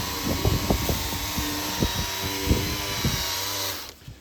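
A hazy, yellowed car headlight being ground with a semi-wet polishing pad on a machine, giving a steady close whine broken by irregular scuffing knocks, winding down and stopping near the end.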